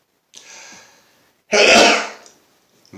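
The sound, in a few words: man sneezing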